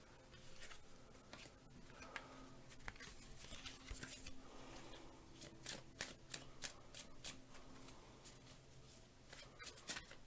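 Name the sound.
shuffling tarot cards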